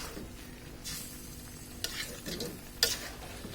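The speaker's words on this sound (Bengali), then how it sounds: "এখন একটু হালকা নেড়ে দিব" Snake gourd (chichinga) cooking with prawns in a pan, stirred gently: a low simmering sizzle with a few brief scrapes and clinks of a utensil against the pan, close and fairly quiet, no voices.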